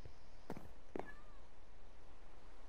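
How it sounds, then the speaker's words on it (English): A pet cat named Kevin gives two short meows about half a second apart, fairly close and clear over a quiet room hum. "Kevin is kind of loud. That's because he's a cat."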